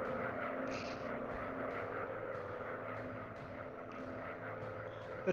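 Propeller-driven WWI fighter planes drone steadily in a War Planes virtual reality dogfight, a continuous engine hum holding at an even loudness throughout with no talking.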